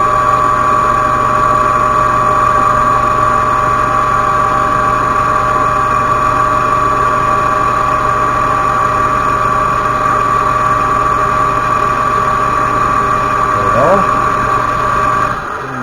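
A Weeden toy steam engine runs on its boiler with oiled gears, giving a steady, loud mechanical hum with constant tonal whine and faint rhythmic chatter, unchanging for the whole stretch.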